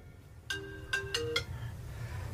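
Three short electronic ring bursts from a mobile phone sound in quick succession, fairly close and clear over a low background rumble, with no talking.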